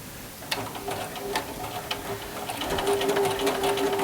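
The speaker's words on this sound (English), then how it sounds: "Start sewing" A sewing machine stitching fabric for a roll kit, close and steady with rapid ticking needle strokes and a motor whine that grows louder and faster toward the end, no talk.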